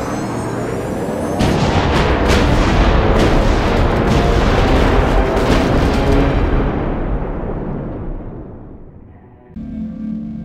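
Gunfire and heavy booming blasts in the video game Oddworld: Stranger's Wrath, a loud, sustained barrage of shots and explosions that fades out toward the end before a brief burst of other game sound.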